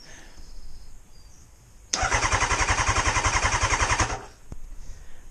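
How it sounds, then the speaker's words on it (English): A starter motor cranks the engine with a fast, even chugging rhythm for about two seconds and then stops abruptly. The sound is loud and close, alone against a quiet background. "when I thumb the starter"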